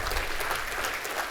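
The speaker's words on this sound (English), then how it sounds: "a round of applause for all of us today" An audience at a prostate cancer treatment talk gives a short round of applause, a steady, moderately soft patter of many hands clapping together.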